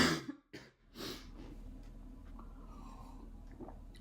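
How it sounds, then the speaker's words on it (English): A person sick with COVID coughs inside a spray-insulated camper van, two or three sharp close coughs at the start followed by quieter breathing and faint background hum. "I'm going to be coughing throughout this video because I have COVID"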